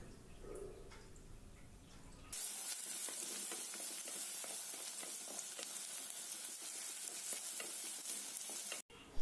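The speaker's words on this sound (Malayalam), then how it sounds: "ഈ ഇഞ്ചിയും വെളുത്തുള്ളി ഉള്ളിയൊക്കെ നല്ലതായിട്ടൊന്ന് വഴറ്റിയെടുക്കണം." Ginger, garlic and onion sautéing in a pan for fish curry, with curry leaves added. After a quiet start, a loud, steady, close sizzle begins and runs on, with light stirring clicks scattered through it.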